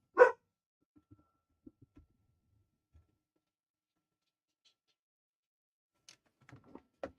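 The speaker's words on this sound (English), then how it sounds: "dog thinks there's somebody outside and there's not" A single sharp dog bark near the start, barking at a sound it takes for someone outside, followed by a long quiet stretch with faint clicks and brief rustling near the end.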